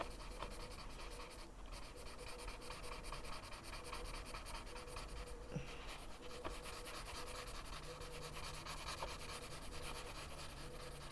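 Colored pencil rubbed over paper to smooth and blend the color, a faint, continuous soft scratching with light strokes, quiet and close, with no voices.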